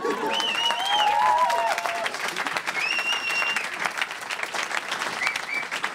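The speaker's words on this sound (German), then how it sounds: "lass uns doch mal unseren Applaus zählen vor all deinen Fans" At a German comedy roast battle, a live crowd breaks into strong, dense applause with whoops and whistled cheers over it, building early and then continuing steadily near the microphone.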